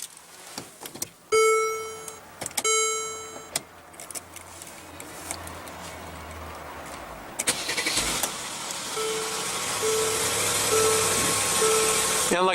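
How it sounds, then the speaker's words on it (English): A 2015 Mercedes-Benz ML400 with a 3-liter bi-turbo V6 cranks with a push-button start and catches, then idles steadily and close by. Chimes and clicks come before it, and there are a few brief bumps partway through. "what you're hearing is a 3-liter bi-turbo V6 engine"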